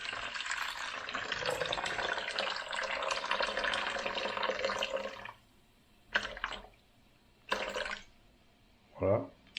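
Warm water pours steadily into a bowl of yeast for baguette dough, a loud continuous splashing stream for about five seconds, followed by a few short separate pours and a brief clunk.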